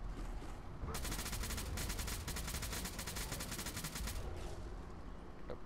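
Rapid automatic gunfire from a weapon in Fallout 4, a sustained burst of evenly spaced shots lasting a few seconds and then cutting off, with ambient game noise before and after.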